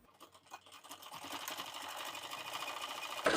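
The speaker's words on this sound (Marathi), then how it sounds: "तर या पट्टीला आपण आता दाब शिलाई देऊन घेऊयात।" Sewing machine running a straight stitch along a blouse strip, a close, fast, even whir that starts unsteadily and then settles into a continuous mechanical hum before stopping.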